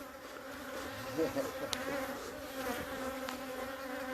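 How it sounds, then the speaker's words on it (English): Bees buzz steadily and softly close by, a swarm's droning hum with a few individual insects passing nearer. "There's a lot of bees in there."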